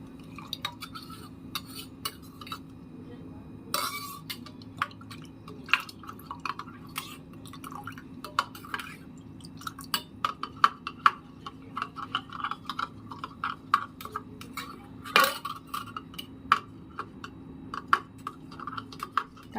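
A spoon stirs and clinks against a vessel while masala buttermilk (chaas) ingredients are mixed, giving irregular light taps and scrapes with sharper knocks scattered throughout, close and fairly quiet over a low steady hum.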